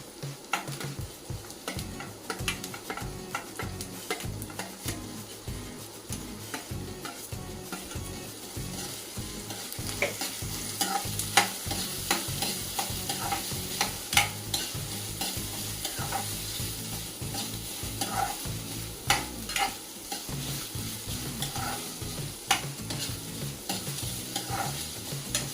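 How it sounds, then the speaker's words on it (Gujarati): Corn kernels, capsicum and paneer sauté with onion in a pan, giving a continuous soft sizzle with repeated scraping stirs of a spoon throughout, steady and close with no talking. "મકાઈના દાણા અને શિમલા મરચાં અને પનીર ઉમેરી દઈશું અને બધું બરાબર સાંતળી લઈશું"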